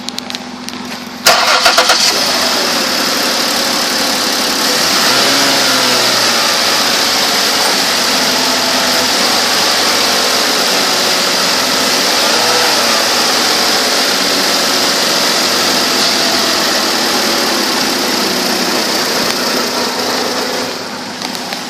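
A 2008 Ford Taurus X with 247,862 miles cranks briefly and fires up, then settles into a steady, loud idle that runs on alone for about twenty seconds.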